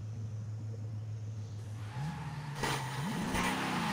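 Engine of a car in the racing video game Forza Horizon 5, droning steadily at low revs, then rising in pitch as it accelerates and revs near the end, loud and continuous with no talk.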